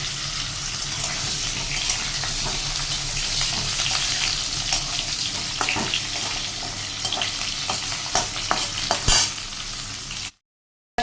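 Vegetables and green chilli fry in a pan with a continuous close sizzle, scraping stirs and sharp pops, until the sound cuts off abruptly near the end.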